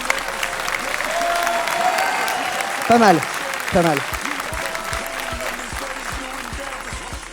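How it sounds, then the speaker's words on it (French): A cinema audience at a film premiere applauds the Joker, a sustained wash of clapping and crowd noise under someone talking over it, with a couple of brief louder swells midway. "Applaudissements pour le Joker s'il vous plaît."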